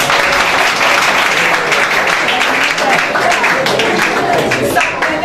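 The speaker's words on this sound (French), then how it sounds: "Il faut applaudir à Jésus." A church congregation claps and applauds steadily, a dense, loud wash of many hands that keeps going without a break, with voices mixed into the crowd noise.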